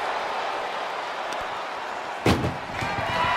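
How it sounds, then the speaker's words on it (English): A single hard slam of an ambulance door in the WWE 2K24 wrestling game's ambulance match, a sharp loud thud standing out from steady crowd noise in the arena. "Desperately trying to close the first of two doors"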